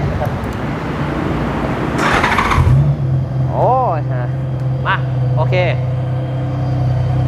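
A 2016 Honda Goldwing F6B motorcycle with an aftermarket Koppla exhaust cranks and fires up partway through, then settles into a deep, steady idle with a few throttle blips, while people talk nearby.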